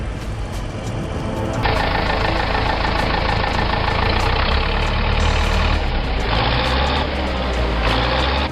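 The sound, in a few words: Zyder 7211 engine roaring with wheels spinning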